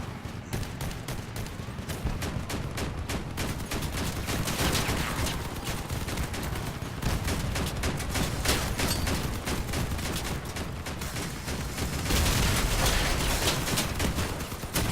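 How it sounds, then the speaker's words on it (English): Gatling guns in the vehicle combat game Crossout fire in a sustained, dense, rattling barrage that carries on for the whole stretch, loud and steady with no talking. "There's a lot of weapons, Gatling guns, and stuff like that"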